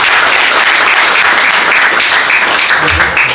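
A conference audience gives the sponsors a loud, dense burst of applause that stays steady and close throughout, a continuous wash of many hands clapping at once.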